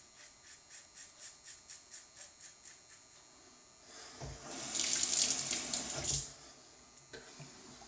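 Tap water runs into a sink to rinse shaving lather in a wet-shave barbershop routine, a steady close splash that swells louder and fuller midway before easing off, with no talking.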